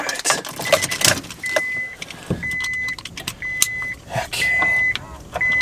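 A power mirror motor on a 2002 Honda Accord whirs in several short, evenly spaced bursts, mixed with clicks, knocks and handling noise inside the car.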